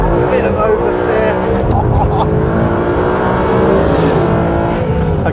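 A Mercedes SLS AMG Black Series lapping a race track, its engine a loud, steady close roar from the cockpit under continuous talk, with a rising note and brief tire noise near the end.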